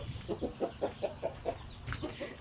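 Brooding native hens cluck in a steady run of about eight short, evenly spaced notes, close and moderately quiet over a faint background hum.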